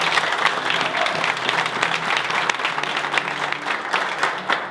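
Dense, sustained applause from a large stadium crowd at Angel Di Maria's farewell from the Argentina national team, a continuous close wash of clapping at steady volume throughout.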